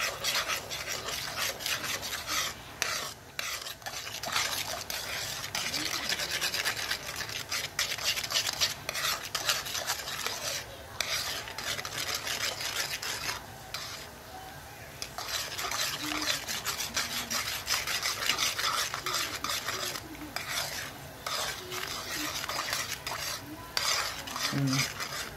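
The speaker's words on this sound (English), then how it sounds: "So we're just gonna stir all that up" Honey butter sauce with sugar is stirred in a pan, giving a steady, close scraping and rasping that runs unbroken the whole time with a faint sizzle underneath.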